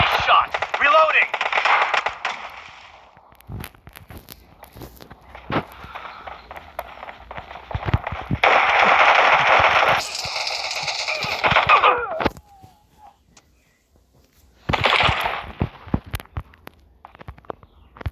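Shotgun blasts in a video game during a shotgun-only challenge, loud broadband bursts in irregular clusters with gaps of quiet, mixed with game effects.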